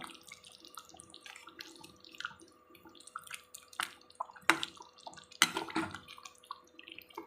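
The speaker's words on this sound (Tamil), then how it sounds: "அடுத்தது தேங்காய் பால் நம்ம சேர்த்துக்கலாம்" Coconut milk goes into a chicken gravy with liquid pouring, splashing and dripping sounds, close, scattered and uneven, with a couple of sharper clatters partway through.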